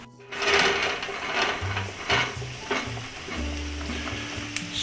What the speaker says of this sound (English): next step is to fry up all these mushrooms we have